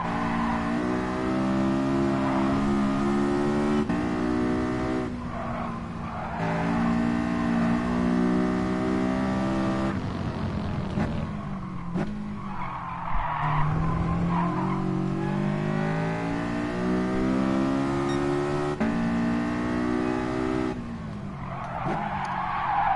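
Older-model BMW racing in Gran Turismo, with its engine droning steadily and rising and falling through gear shifts, and tires skidding and squealing at intervals throughout.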